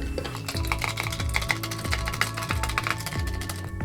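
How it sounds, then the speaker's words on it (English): A Long Island Iced Tea cocktail topped with Coca-Cola is stirred in a glass, giving a steady run of light clinks and taps that carries on for several seconds at close range with no one talking. "Let's give that another stir."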